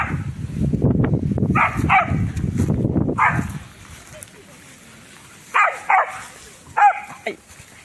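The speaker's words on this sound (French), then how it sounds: "Et arrête d'aboyer." A young dog yips and barks in short bursts outdoors, with a person speaking loudly at first, then sharp isolated barks alone after a pause.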